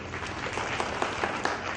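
Steady, dense applause from an audience at a bhajan workshop talk in Brindavan, Bangalore, India, a continuous wash of clapping at moderate volume with a few sharper claps standing out.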